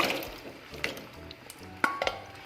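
Cooked elephant foot yam being stirred into masala in a pan: a spoon scrapes and clinks against the metal in a few sharp knocks over a soft sizzle, fairly quiet, with no voices.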